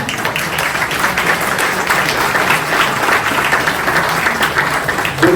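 A seated audience at a talk in Le Mans gives sustained applause for the association's treasurers, a steady, even roar of many hands clapping without pause from start to finish.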